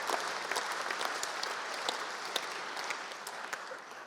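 A crowd at the SJA British Sports Journalism Awards ceremony claps steadily for about four seconds, a thick even roar of hands with scattered louder claps, easing slightly toward the end.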